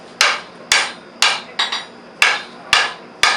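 Hand hammer strikes on hot iron while forging gun parts at a Colonial Williamsburg gunsmith's forge: seven sharp, ringing blows in an uneven rhythm, close and loud, with no talking.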